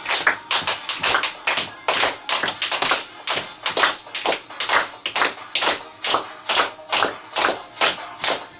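A lecture audience claps in unison as part of a group exercise that follows music. Brisk, sharp rhythmic claps come at a quick, regular pace, sometimes doubled, and continue steadily throughout.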